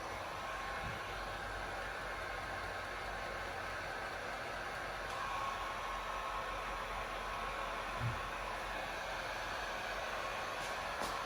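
A heat gun blows steadily while warming chrome delete vinyl wrap on the window trim of a 2019 or newer Sierra/Silverado crew cab, a continuous broadband whoosh holding at an even level throughout.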